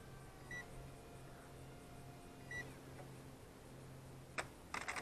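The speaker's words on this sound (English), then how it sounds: "my timer's barking at me" A flight timer beeps twice in short bursts at an outdoor session flying a small foam F-22 Raptor nano model plane, with steady background hum and a few sharp clicks near the end.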